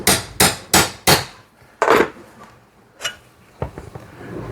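Metal hammer taps on a crank being driven off the shaft of a Brunswick A/A2 bowling pinsetter: four quick close blows, a pause, then a few more scattered ringing strikes, with no talking.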